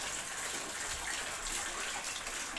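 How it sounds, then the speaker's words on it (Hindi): Tap water filling a container early in the morning from a municipal supply in Delhi, a steady continuous gush and splash heard close and alone, with no pauses. "आज सवेरे सुबह सुबह 5 बजे पानी भर रहा हूँ।"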